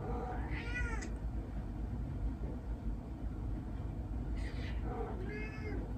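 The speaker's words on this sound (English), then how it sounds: "Oh, you can see Judy, my cat" A pet cat meows twice indoors, a short rising call near the start and another drawn-out meow near the end, over a steady low background hum.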